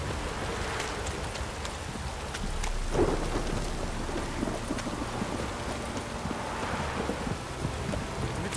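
Heavy rain pours steadily over a continuous broadband hiss, with a low rumble of thunder swelling around the middle and occasional louder gusts, no voices heard.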